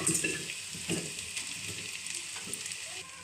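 Flattened rice (poha) with vegetables stirred in a sizzling pan, a steady fry hiss under soft, irregular scraping strokes, close and moderately loud, with no talk.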